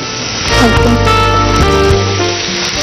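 Vegetables fry in a pan for a brinjal and pigeon pea (vankaya kandi ginjala) curry, giving a steady sizzle that rises after the first half second and carries on throughout, blended with a tonal humming background.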